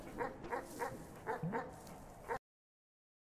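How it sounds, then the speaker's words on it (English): A dog in the video game Animal Well barks in a rapid series of sharp yips and whimpers, fairly close, then a short silence and a faint click. "this dog is attacking me and it's barking at me"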